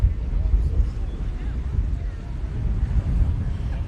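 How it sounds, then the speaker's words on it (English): Strong wind buffeting the microphone at an outdoor tractor show in Edgerton, Wisconsin, a loud continuous low rumble with gusty surges throughout. "it's getting really, really windy right now."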